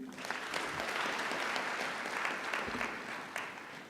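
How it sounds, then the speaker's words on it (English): Graduation-ceremony audience at the University of Nairobi applauds the Chancellor, with a dense, continuous burst of clapping from a large crowd lasting a few seconds. "May we applaud the Chancellor again."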